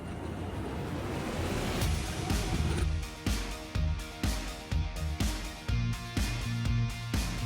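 A boat moves along a river swollen in the rainy season, with a steady rushing wash of water and a series of regular rhythmic knocks and splashes, fairly close and continuous throughout.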